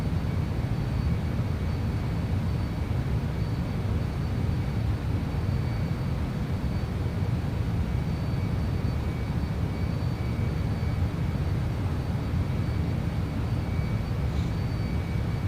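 An MD-11 airliner departing in X-Plane 11, a steady, loud broadband engine roar that holds evenly throughout with no variation and no talk.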